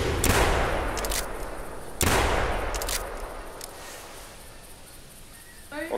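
Two loud, close shotgun blasts ring out while hunting geese in theHunter video game, each followed by a long reverberating echo that slowly fades.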